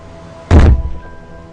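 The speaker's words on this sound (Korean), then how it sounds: "선반 위쪽에 놓여져 있던 전공서랑 사전이 그만 아케미의 머리에 떨어지고 말았다" Textbooks and a dictionary fall from a high shelf onto a person's head indoors, landing as one loud, dull, heavy thump that fades quickly into quiet.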